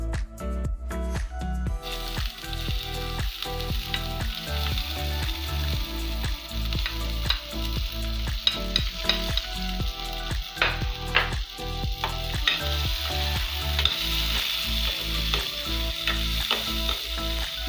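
Onion sizzling and frying in salted oil in a clean pan for a plantain pizza, with a steady loud crackle and occasional stirring clatter throughout.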